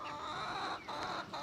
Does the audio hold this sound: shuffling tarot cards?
no